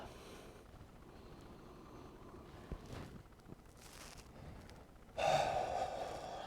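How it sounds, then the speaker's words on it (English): Deep inhalation during a yoga session, a soft breathy hiss that builds faintly before swelling into a louder, close rush of air near the end, with quiet room noise and a few light bumps beneath. "Breathe in deep."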